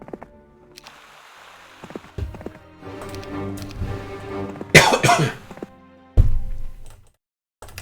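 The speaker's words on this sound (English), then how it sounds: "I'm still coughing, which is a bit annoying" A couple of sharp coughs burst out mid-clip over quiet background noise, followed by a lower, shorter throat sound near the end.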